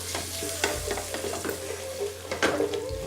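Spices stirred in a hot sizzling pan for a moringa Colombo curry, with asafoetida and massalé powder in the mix: a steady fry hiss under repeated scraping strokes and light clinks of a utensil against the pan.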